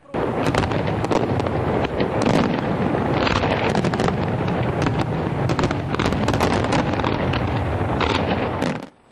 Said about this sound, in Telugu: స్పాస్కాయా టవర్ వద్దకు వేల సంఖ్యలో చేరిన ప్రజలు పెద్ద ఎత్తున బాణసంచా కాల్చి 2014కు స్వాగతం పలికారు.